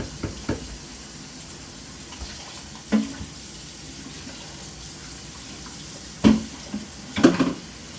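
Items are rinsed under a running tap in a sink, a soft steady water flow broken by several brief clatters and knocks of dishes being handled.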